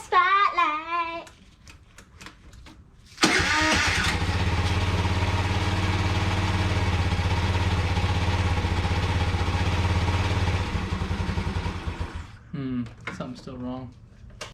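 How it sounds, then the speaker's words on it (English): A 50cc Kymco Sento scooter with a new carburetor starts up and runs steadily at a loud, close idle for several seconds, then stops, with a person talking before and after. "I got the scooter running like a top."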